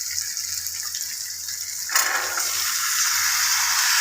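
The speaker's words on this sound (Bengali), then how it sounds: "মটরগুলো ঢেলে দিলাম" Boiled peas poured into a hot pan for Nepali Gorkha chutney, a sudden sizzling gush that settles into steady, close frying hiss.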